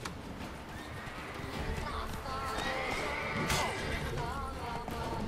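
A horse called in The Witcher 3 video game gives a neigh amid steady game ambience, with hoof clip-clop and background chatter, one whinny rising around mid-clip over continuous noise.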